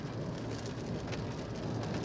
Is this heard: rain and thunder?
yes